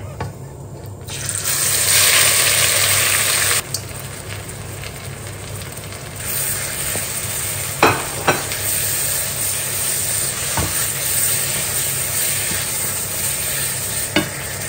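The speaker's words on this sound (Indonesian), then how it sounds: "Dan sekarang kita tumis bumbunya" Spice paste for Indonesian semur beef stew being sautéed in a hot pan, a steady close sizzle with scraping stir strokes and a few sharp utensil knocks, no talk.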